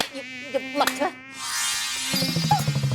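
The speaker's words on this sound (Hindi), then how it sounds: "अरे अरे ये मच्छर।" A mosquito whines with a steady high buzz through the middle of a short indoor scene from a Hindi fantasy TV serial, between brief bursts of other sound, fairly close and clear.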